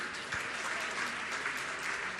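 Audience in a hall at a Jain monk's question-and-answer gathering clapping steadily, a dense, even patter of many hands sustained throughout at moderate distance.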